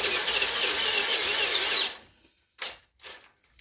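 A Bosch power drill bores through a Dana 60 steering knuckle, a loud, steady high-pitched grinding whine that cuts off abruptly partway through, followed by a few short clanks and scrapes.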